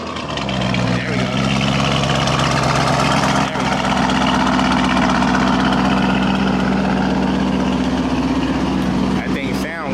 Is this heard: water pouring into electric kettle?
no